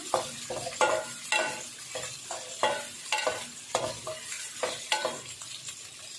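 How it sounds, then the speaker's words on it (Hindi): Pre-boiled chicken is lightly fried in a pan, with a soft background sizzle broken by a regular series of scraping stirs, roughly two per second, close and moderately loud, with no talking. "चिकन को हम हल्का सा फ्राई करेंगे। जो ये पहले से बॉयल हुई हुई चिकन है"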